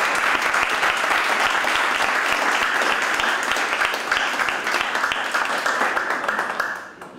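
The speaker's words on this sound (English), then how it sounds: "Can we give these guys a big, huge round of applause" Sustained loud applause from a crowd, steady clapping throughout that fades out at the end.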